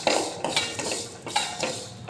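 Dry-roasting coriander seeds, pepper, fennel, cinnamon and cloves in a pan for a country chicken curry, with a run of close, bright metallic scrapes and clinks of a spoon against the pan in an uneven rhythm.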